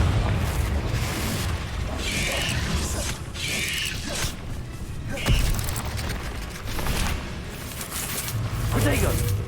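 A Confringo fire spell bursts in a wizard video game, with several booming blasts and crackling impacts amid busy game effects, while a voice talks over the action.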